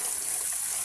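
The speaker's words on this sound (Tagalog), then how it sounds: "tapos lagyan nyo na ng tubig" Tap water running steadily into a plastic container inside a house, a continuous close gushing splash with no breaks across the short stretch.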